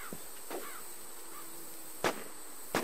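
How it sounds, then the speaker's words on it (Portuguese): Gunshots in the survival shooter Infestation: Survivor Stories, two or three sharp isolated cracks spaced apart over quiet game ambience, with a steady high electronic whine in the background. "Tô escutando tiro."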